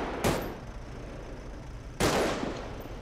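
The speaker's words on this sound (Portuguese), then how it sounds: "Tem troca de tiro, tá? Com a equipe nossa aí." Two sharp gunshot blasts, about two seconds apart, ring out loud and close during an exchange of fire between a police team and gunmen in a Brazilian favela, each followed by a short echoing tail over steady background noise.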